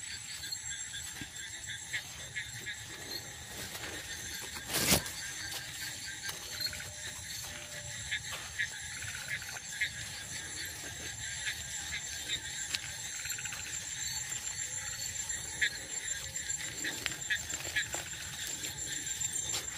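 At night on a lonely village road beside a large pond, crickets keep up a faint, continuous high chirring, with soft distant sounds and one sharp knock early on.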